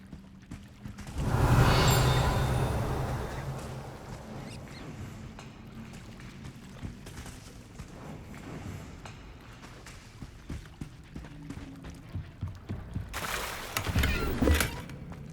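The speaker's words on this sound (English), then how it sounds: "So this is the underground harbour." Underground harbour in Hogwarts Legacy, with a hollow, echoing wash of water and wind that swells early on, then gives way to soft footsteps and gentle sloshing, rising again near the end.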